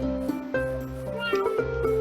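In the Fantasy Fishing Town game a cat meows several times in quick succession, loud and near, each call bright and drawn out, with no talking over it.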